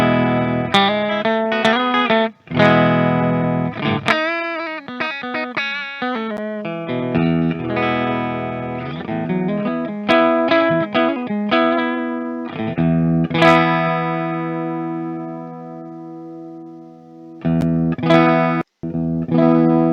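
Harley Benton SC-Special electric guitar played through a clean amp tone with some chorus and reverb: ringing chords and single-note phrases, loud and close, with brief pauses between strums and no talking.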